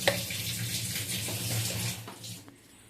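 Cooking oil poured from above into a heated pan gives a steady, close liquid rush lasting about two seconds before tapering off and fading to quiet, with no voices.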